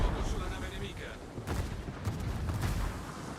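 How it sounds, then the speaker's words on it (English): Battleship Massachusetts firing high-explosive shells in World of Warships: a dense run of booming cannon blasts and rumbling impacts, fairly loud and continuous, with a voice talking over the gunfire. "Massachusetts shooting HE at you"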